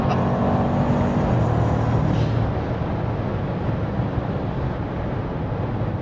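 A Keyvany-tuned Lamborghini Urus engine roars loudly and continuously as it accelerates after a downshift on an open German road, with a strong, steady drone throughout.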